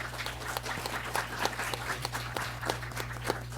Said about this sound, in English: just give a brief round of applause to our panelists